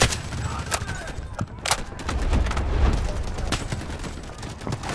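Rapid volleys of gunfire from Delta Force: Hawk Ops crackle over a rumbling game background, with several sharper shots standing out in the first two seconds.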